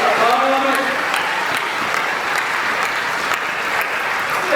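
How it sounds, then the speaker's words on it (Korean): A church congregation in a sanctuary with two floors claps loudly and steadily throughout, a dense wash of applause that fills the room, with a voice speaking faintly beneath it. "우리 하나님 큰 박수 올리기 원합니다"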